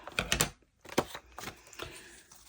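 Scissors cutting off pieces of paper for a denim journal project, a few quick crisp snips close by, then softer rustling and handling of the paper.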